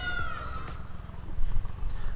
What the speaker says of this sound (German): hier sind viele Katzen